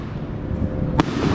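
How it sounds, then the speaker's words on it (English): July 4th fireworks in Los Angeles after dark, heard as a dense, rumbling backdrop of distant bursts, with one sharp, louder crack near the end. "See, I love fireworks."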